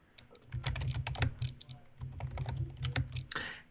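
Fingers type on a computer keyboard in a rapid, steady clatter of close, crisp keystrokes that pause briefly midway and then continue, with no talking.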